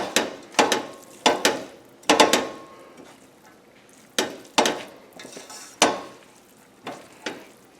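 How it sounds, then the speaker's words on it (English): Spaghetti being tossed and mixed with fresh spinach and anchovy, utensils clacking sharply against the pan in irregular bursts of knocks and scrapes, loud and close with quiet gaps between strokes. "So we mix this up."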